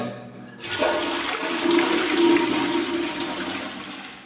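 A toilet flushes loudly and close by, a sudden rush of water that swells and churns for several seconds before easing into gurgling refill.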